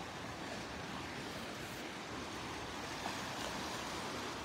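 Ocean waves wash onto the beach at Delnor-Wiggins in a continuous, even roar of surf with some wind, no voices over it.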